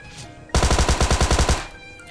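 A single rapid burst of automatic gunfire from PUBG Mobile Lite, about a dozen loud, evenly spaced shots in roughly one second, then a short fading tail, with no voices.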